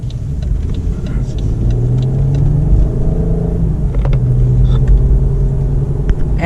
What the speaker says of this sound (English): sometimes you barely hit on the gas and it just goes whoa